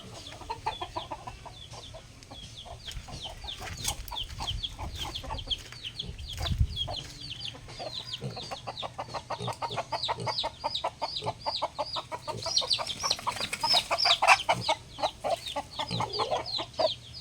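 A hen clucks in a steady run of quick, repeated notes, fairly close, with a brief louder burst of squawking near the end.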